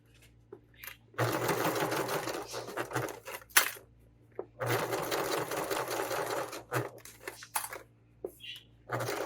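A sewing machine stitches back over the edge of fabric for an Easter egg cutlery holder, running in several loud bursts of rapid mechanical whirring separated by brief pauses and small clicks.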